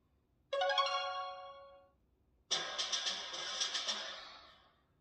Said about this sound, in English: I'll fire up Boom Beach. That's something I like to do. It has a nice loud startup sound.